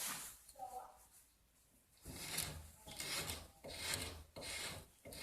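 A hand rasp or file rubs rhythmically along the wooden heel of a cigar box guitar neck in long steady strokes, close and fairly quiet, after a brief opening passage of softer sound.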